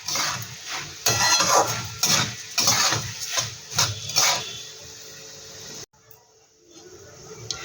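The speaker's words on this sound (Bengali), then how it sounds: "এবার এটাকে আমি ভালো করে ভেজে নেব।" Puffed rice stir-fried in a pan for an evening snack, heard as bursts of dry scraping and rattling against the metal, repeated in uneven strokes, then a brief pause and a softer stir.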